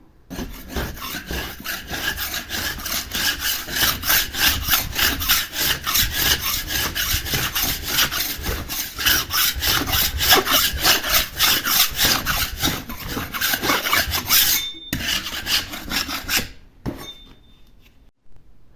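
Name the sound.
scraping to strip a ceiling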